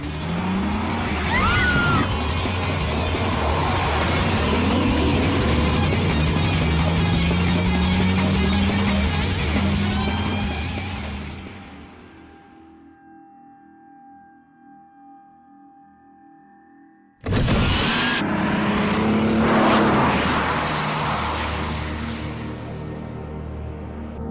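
A race car roars at speed with a loud, sustained engine note and tire noise. The sound drops away to a quiet hum for a few seconds, then bursts back to full volume.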